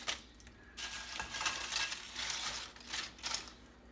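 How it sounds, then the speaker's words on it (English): Eggs frying in a pan give a soft, steady sizzle with a few light scrapes and clinks of a utensil, faint and close, with no voices. "And then we're gonna cook an egg, each, of course."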